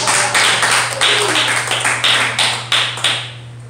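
A church congregation claps together during a sermon, a sustained burst of crisp hand claps close and loud, falling into a few rhythmic bursts before fading, with a steady low electrical hum underneath.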